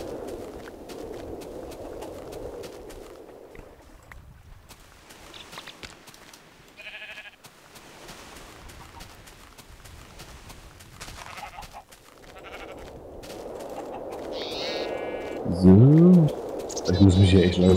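Minecraft sheep on a farm let out a few short, wavering bleats, mostly toward the end, while two people chat over them.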